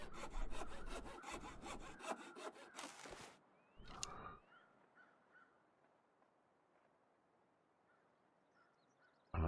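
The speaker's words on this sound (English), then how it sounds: "so let's just cut the firewood first." Rhythmic back-and-forth sawing of firewood in the survival game The Long Dark, steady strokes for about three seconds, then a brief woody scrape and quiet forest ambience with faint bird calls.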